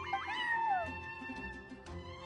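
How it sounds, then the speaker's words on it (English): Charcoal, a neighbor's cat in a video game, lets out a clear rising-then-falling meow near the start, followed by soft background game tones and faint ambient sounds, with no speech. "I'm sorry, that's my neighbor's cat."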